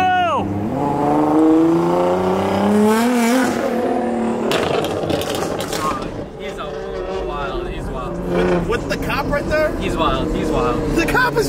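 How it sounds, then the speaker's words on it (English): Several Nissan GT-R sports cars rev and accelerate at a street car meet near Times Square, engine pitch sweeping upward loudly amid crowd noise, while excited voices shout over the engines. "Wow, GTR! Wow, another GTR! Oh my god, another GTR!"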